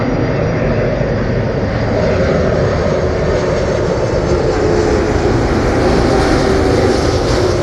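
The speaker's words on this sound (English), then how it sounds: "Virgin Atlantic Airbus A330." A Virgin Atlantic Airbus A330 landing at Heathrow Airport gives a loud, steady jet engine roar with heavy low rumble and broad hiss, holding close and constant throughout.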